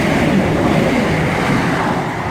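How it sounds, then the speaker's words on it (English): A ScotRail train passing through Bowling station, a loud, close, steady roar of wheels and rumble with no break across the short stretch, no talk. "passing through is going to be another ScotRail service from Balloch to Airdrie"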